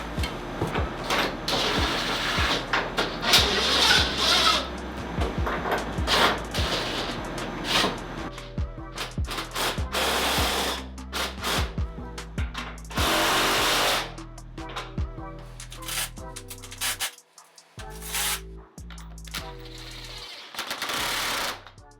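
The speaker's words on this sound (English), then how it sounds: "So we got all these bolts started. Start in the middle, tightening them up." A power tool drives and tightens bolts into a damaged floor joist being sistered, in repeated loud bursts of rattling impact with short pauses between each bolt and some clattering handling.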